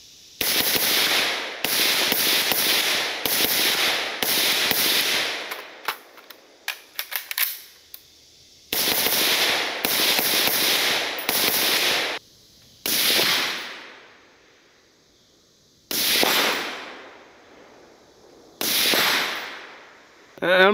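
Rifle shots through a Huxwrx Flow 556K suppressor, 5.5 inches long, outdoors: a rapid string of sharp, loud reports early on, then single shots spaced a few seconds apart, each trailing off in a short echo.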